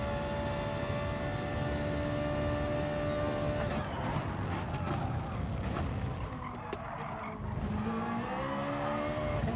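Race cars in GT Sport roaring hard around a corner alongside a Peugeot, steady loud engine drone with shifting pitch, tire squeal and a brief skid midway, no voices.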